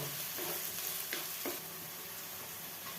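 Capsicum and cabbage shallow-fry in oil for baby corn fried rice, a soft, even sizzle with a few faint stirring scrapes, quiet and close.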